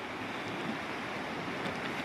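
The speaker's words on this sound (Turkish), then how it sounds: "dalgalar sahili yavaş yavaş dövüyor" Sea waves slowly lapping a Black Sea shore in summer: a soft, continuous wash of surf heard faintly and steadily, with some wind noise and no voices.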